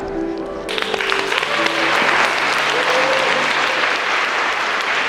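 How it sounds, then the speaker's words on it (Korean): Wedding ceremony guests applauding indoors, a dense, loud burst of clapping from a crowd that swells within the first second and holds steadily to the end, with no speech over it. "다시 한번 감사의 박수 보내주십시오"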